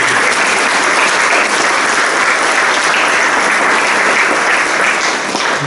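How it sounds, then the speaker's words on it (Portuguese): An audience at an academy induction ceremony gives continuous, loud, dense clapping that holds evenly from start to finish, with no voices standing out. "Palmas, por favor,"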